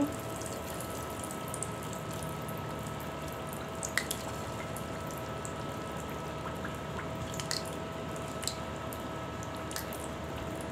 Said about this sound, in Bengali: এই যে পিঠাটা দিয়েছি, ভেজে নিব।